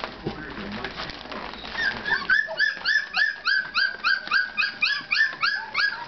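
Four-week-old puppies whimper and yip in a close, rhythmic run of high squeaky cries that grows steadier and louder after the first couple of seconds, with faint background noise early on.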